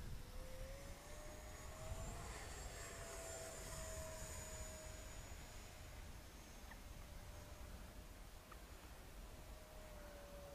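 An Arrows Hobby Viper 50mm electric ducted fan RC jet makes a fast pass, a steady, faint, high-pitched fan whine that holds a fairly even tone from start to end.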